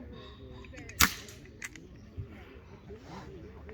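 A single sharp crack from a Weihrauch HW98 break barrel air rifle at a recoiling field target championship, followed by softer faint clicks and distant outdoor chatter.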